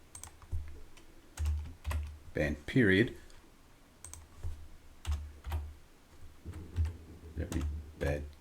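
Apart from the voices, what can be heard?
typing on computer keyboard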